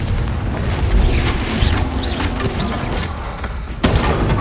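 Fire spell explosions from combat in Hogwarts Legacy burst repeatedly in a dense, rumbling barrage. They keep up a steady loud roar, with a fresh blast landing near the end.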